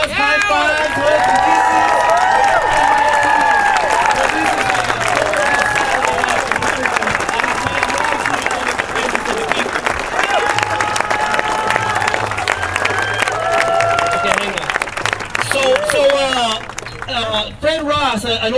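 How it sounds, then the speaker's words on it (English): A large outdoor Occupy rally crowd in Santa Rosa applauds and cheers loudly and steadily, with shouts and voices mixed into a dense wash of clapping that fades near the end. "give yourselves a big ol' applause, high fives, hugs"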